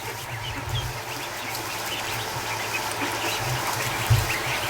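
Two-week-old ducklings quack softly and intermittently in short bursts over a steady background hiss, with no talk.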